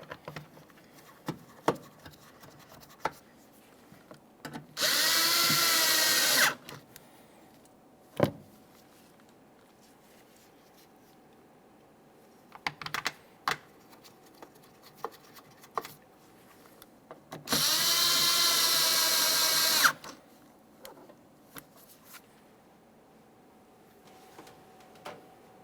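A power tool drives two mounting bolts into the rear interior door trim of a 1999-2006 Chevrolet Silverado 1500, giving two loud, sustained bursts of whirring, a couple of seconds each and well apart, with small clicks and handling noises between them.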